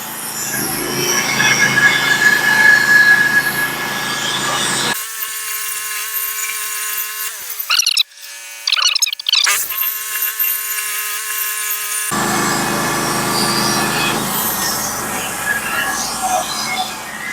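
A sawmill cuts a skim cut along a spruce log, a loud steady saw roar with a sharper squealing stretch in the middle, the blade pitch shifting as it passes through the wood.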